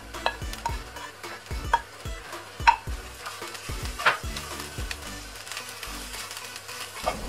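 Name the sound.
sautéing fried prawns into coconut masala in a pan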